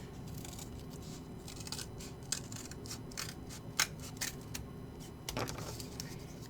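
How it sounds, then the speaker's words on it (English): Scissors cutting craft material for a fairy house, a series of close, crisp snips at an uneven rhythm, quiet background in between. "So we're going to cut some extra here."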